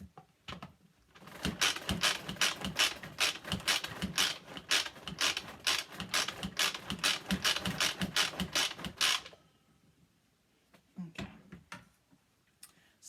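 A Pampered Chef manual food processor chops dates into a paste, a rapid ratcheting clatter of gears and blades cranked in fast bursts for several seconds, then a pause and a few last turns.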